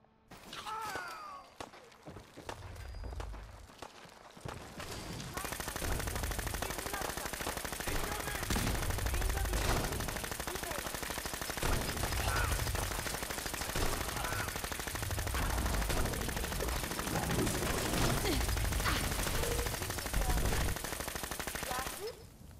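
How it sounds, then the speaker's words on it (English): Rapid 10mm pistol fire against a Mirelurk Queen in Fallout 4, starting after a few quiet seconds and continuing as dense, sustained volleys of shots mixed with crashing impacts and game noise, loud throughout, with occasional talk underneath. "I'm going to go up against a Mirelurk Queen with just this pistol"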